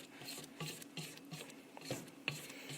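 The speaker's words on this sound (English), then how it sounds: "I'm going to pause it for 1 second and scrape down the sides of my bowl" A spatula scrapes the sides of a mixing bowl of pumpkin muffin batter, making a series of soft, close rasping strokes in a quick, irregular rhythm.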